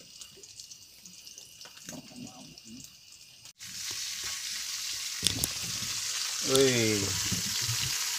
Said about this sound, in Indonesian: goreng ikan baronang, bro. Baronang batik nih.